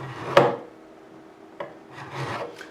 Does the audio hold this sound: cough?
no